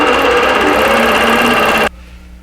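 Longarm quilting machine in manual mode stitching a spiderweb pantograph, a loud steady rapid whirring hum that runs continuously, then stops abruptly near the end, leaving a quiet tail.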